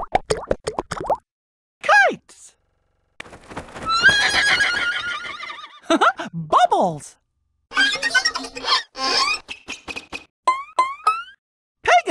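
A Pegasus horse in the Disney Learning Phonics Quest video game neighs and whinnies repeatedly in short bursts, mixed with bright plopping and clip-clop effects, loud and close with silent gaps between calls.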